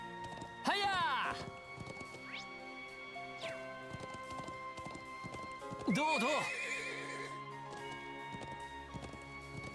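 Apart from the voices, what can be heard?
horse riding and neighing in video game Trails of Cold Steel IV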